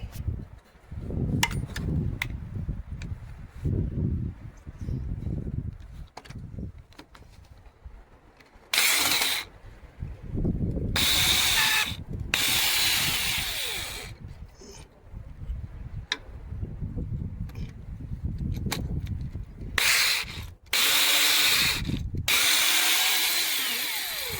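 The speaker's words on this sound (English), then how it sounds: "Now I'll try again with the one on the drill." Power drill working a pin loose on a RICON wheelchair lift, sounding in several loud whirring bursts of a few seconds each, separated by quieter stretches of clanking and handling of tools.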